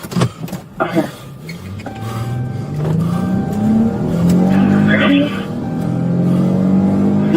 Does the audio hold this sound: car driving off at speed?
yes